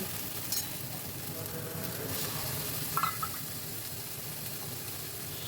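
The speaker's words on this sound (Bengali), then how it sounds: "এবার আমি দিয়ে দিচ্ছি কেটে রাখা টমেটোটা" Chopped tomato sizzling in a pan with ginger paste and spices as fish curry is cooked, a steady moderate frying hiss throughout with a faint stir or clink near the middle.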